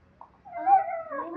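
A dog whimpers and whines in a single rising, wavering cry lasting about a second, close and fairly quiet, after a brief faint click.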